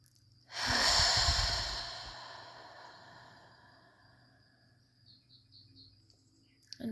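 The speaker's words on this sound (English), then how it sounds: "And just breathing like that a few more times, all the way through this full flow and wave of breath through the body" One long, deep breath during a summer solstice meditation, a loud breathy rush at first that slowly fades over several seconds into quiet, with faint chirps in the background.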